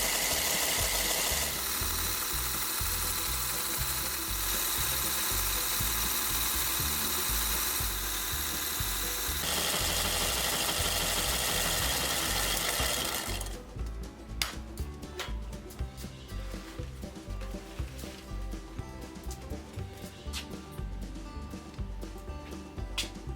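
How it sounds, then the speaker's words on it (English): A long boring bar taper-bores a wooden wagon hub on a machine to fit cast iron sleeves; a loud, steady mechanical drone holds for about thirteen seconds, then gives way to quieter, irregular cutting clatter and knocks. "even though my boring bar is 24 inches long, I still can't reach clear through the full length of the hub"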